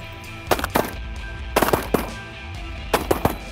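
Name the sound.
shotgun shots fired at waterfowl during a hunt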